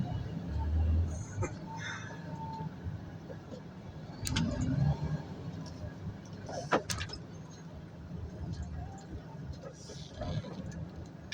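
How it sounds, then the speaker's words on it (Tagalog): Road traffic passing a roadside repair site, with car engines, rumbling tyres and occasional door-like thumps and clatters, steady and fairly close, while a voice talks faintly underneath. "Traffic dito, traffic doon."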